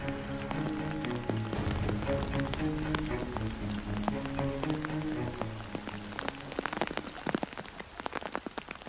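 Heavy rain in rural Kenya pours steadily on a surface, with scattered louder drops and taps over a dense wash, the downpour growing more broken and patchy toward the end.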